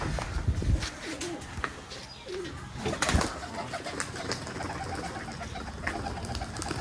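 Giriraj pigeons coo softly in a loft in Bangladesh, with repeated low cooing phrases, some rustling and wing flaps, and a sharp knock midway, all fairly close and moderately quiet.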